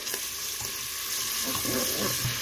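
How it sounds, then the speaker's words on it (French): Lardons frying in hot butter and oil inside a Cookeo multicooker, a close continuous sizzle and crackle with light stirring scrapes, no talking. "Quand c'est chaud, je mets une barquette de lardon. Ça fait 100 grammes. Je remue."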